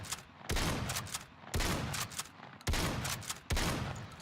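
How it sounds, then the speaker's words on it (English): Shotgun fire in the World War II shooter game Battalion 1944: four heavy booming blasts about a second apart, each with a long decaying tail, loud and close with no talk. "Oh, shotgun."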